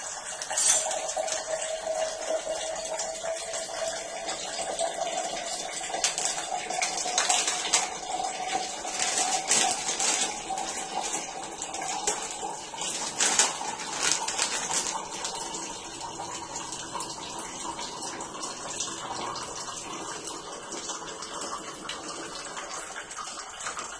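Steady running water pours continuously from a tap, a broad hiss as it fills a cup, with no voices over it.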